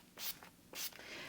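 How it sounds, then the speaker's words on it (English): Maybelline makeup finishing spray misted from a bottle: two short, soft hissing bursts about half a second apart, close and quiet. "I'm just going to be using this Scandinavia makeup finishing spray"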